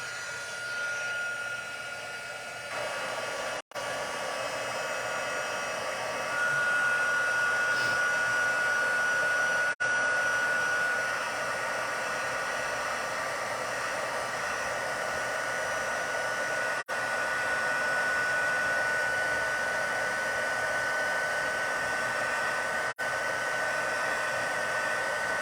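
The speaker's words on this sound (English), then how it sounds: "then we'll get our heat gun and just heat it up" A heat gun blows continuously while heating embossing powder on a card, a steady loud whooshing hum with a faint whine that runs the whole time and briefly drops out once near the start.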